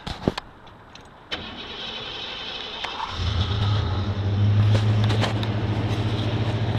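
On a cold morning a carbureted 1987 Ford E150 Quadra 4x4 van cranks briefly and catches, settling into a steady, rumbling high idle; a few clicks and knocks come first.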